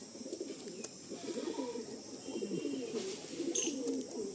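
Pigeons coo in a Madrasi and Giribaj pigeon loft, a continuous soft chorus of low, throaty burbling calls close by, with occasional faint chirps over steady background hum.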